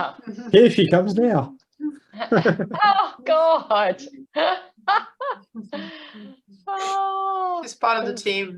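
A pet cat meows during a round-table meeting, a brief drawn-out cry rising out of near-continuous conversation between several people.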